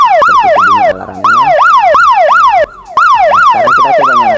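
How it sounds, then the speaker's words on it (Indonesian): A piercing electronic alarm from a network ONU device being powered off wails in rapid rising-and-falling sweeps, cutting out briefly twice before resuming, loud and close. "Oke, seperti itu bunyi alarmnya."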